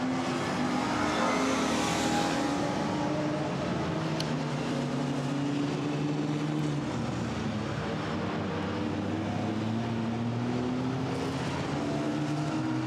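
GT4 race cars, including a Lotus Evora, scream past on the Misano circuit, engines rising and falling through gear changes in a continuous roar of several cars at moderate distance.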